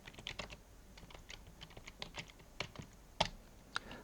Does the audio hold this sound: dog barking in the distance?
no